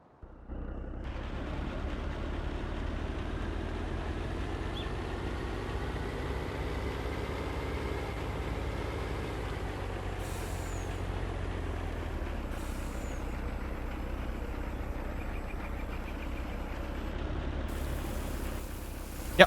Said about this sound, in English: Yep, definitely nice to have this GMC truck out here.